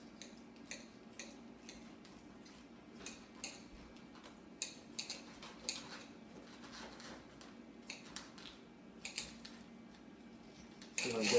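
A knife cuts into cooked lamb chops on a plate, giving a string of light, faint taps and scrapes of cutlery over a low room hum.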